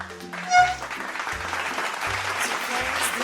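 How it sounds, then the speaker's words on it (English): Applause fills the space as a steady, dense wash of clapping that swells briefly near the start, then holds at an even level over a simple repeating low electronic melody. "clapping"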